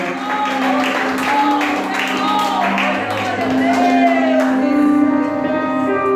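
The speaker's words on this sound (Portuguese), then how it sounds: "Eu vou pedir para aqueles que têm mão aplaudir o Senhor." Church congregation clapping for the Lord, applause mixed with shouts and whoops over sustained background worship music, a steady crowd sound running throughout at moderate loudness.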